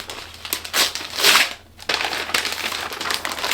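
Crinkly paper packaging decorated with stickers being unwrapped from a book, heard up close as loud crumpling and tearing bursts with a brief pause before the rustling resumes.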